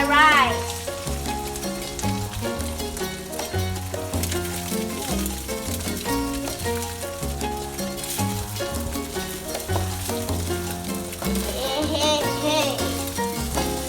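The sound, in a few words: rice being added and stir-fried in a pan for salmon fried rice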